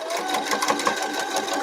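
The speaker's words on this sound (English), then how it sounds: "You're just sewing on the line." A home sewing machine stitches a quilt block along a printed line, running at a steady rapid whir with a fast regular needle rhythm, close and alone.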